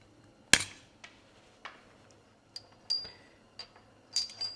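Quiet, sharp metallic taps strike at irregular intervals as brass and copper rivets are set on a leather ammo cartridge belt. One crisp hit stands out early, and several lighter clinks follow.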